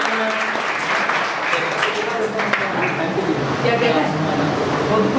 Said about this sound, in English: Please invite ma'am with a big round of applause